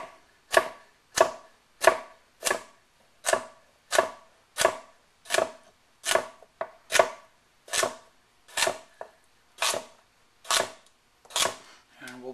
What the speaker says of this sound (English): now we'll chop up the carrots.